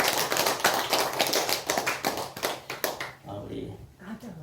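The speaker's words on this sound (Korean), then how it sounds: "우리 권사님 힘내시라고 우리 격려와 응원의 박수 하겠습니다." A church congregation at a Sunday service claps in unison, giving several seconds of crisp, rhythmic applause that stops abruptly, followed by a brief quiet murmur.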